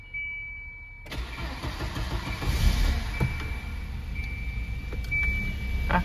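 A car engine cranks and catches after a jump start from a Solvtin jump starter with the battery disconnected, a sharp start at about one second followed by a steady, moderately loud idle rumble.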